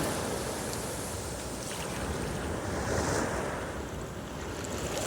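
Waves gently washing and shimmering on open water, a steady soft surf wash with wind noise against the microphone, fairly quiet and continuous throughout with no voices.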